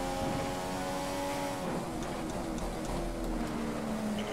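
Formula 1 car engine in F1 2015 at Melbourne, Australia, a sustained high whine that holds steady, then dips and shifts pitch as the car changes gears, loud and continuous with no talk.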